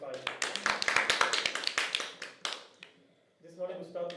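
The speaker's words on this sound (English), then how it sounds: "Round of applause for number 5." A small audience at a Dublin Open World Cup qualifier claps for a player, a quick burst of sharp individual claps that tapers off after a couple of seconds, followed by a voice speaking.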